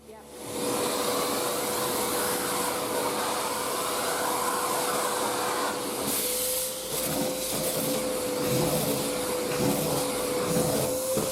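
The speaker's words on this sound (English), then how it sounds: "We're now going to use our vacuum cleaner to pick up the dust" A vacuum cleaner drones steadily and loudly throughout, a constant whining motor hum with rushing air and slight shifts as it moves.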